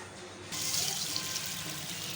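Water is poured into a vessel of roasted moong dal. A short quiet moment gives way to a steady splashing pour that keeps going at a moderate, close level.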